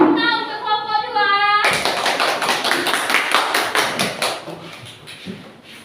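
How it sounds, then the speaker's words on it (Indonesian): A classroom breaks into applause for a presenting student group, many hands clapping close by and briskly for several seconds right after a spoken line with a slight tonal ring. "Kita beri tepuk tangan untuk kelompok 2."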